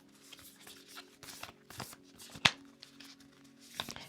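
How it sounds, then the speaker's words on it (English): A deck of tarot and oracle cards being shuffled by hand, soft close riffles and shuffles with scattered taps and one sharp snap, faint and quiet throughout. "These cards are a little hard to shuffle"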